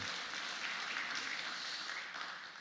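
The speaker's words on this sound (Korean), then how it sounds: "박수로 환영해 주시기 바랍니다" A church congregation applauds during a Sunday worship service in Ulsan, welcoming newly introduced couples; soft, steady massed clapping, fairly distant and quiet, tapering slightly at the end.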